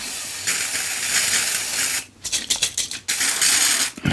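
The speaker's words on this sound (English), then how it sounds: "So I'm going to get my polish out and we'll have a look at that one." Mr Sheen furniture polish sprays onto a soft cloth in short bursts of loud hiss, a long spray, then a few quick puffs and a final burst.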